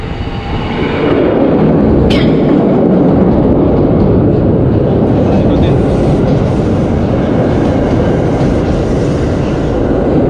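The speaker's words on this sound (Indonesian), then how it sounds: "Ada TM6017 dari Bandan masuk ke jembatan Cikarang." Commuter train TM6017 from Bandan rolling onto the Cikarang bridge in Indonesia, a loud sustained rumble and rattle that swells up close, with a brief sharp high whistle-like squeal early on.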